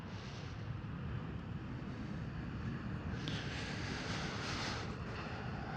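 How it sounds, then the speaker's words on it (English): EasyJet Airbus A320neo airliner at Schiphol Amsterdam, a steady broadband jet roar with wind buffeting the microphone, heard from a distance outdoors. "EasyJet 320 Neo."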